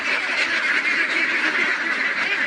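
A flock of two-month-old farm ducks quacks and chatters continuously, a dense, steady chorus of calls close by with no talking.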